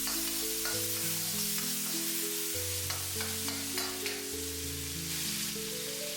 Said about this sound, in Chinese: 把准备好的西红柿丁直接倒在锅里，快速翻炒均匀，把西红柿炒出汤汁